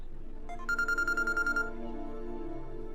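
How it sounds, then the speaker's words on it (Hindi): A mobile phone's ringtone chimes alone as a quick, steady run of bright electronic beeps over a low background hum, lasting about a second before fading. "एक सेकंड, आर्य सर का फोन"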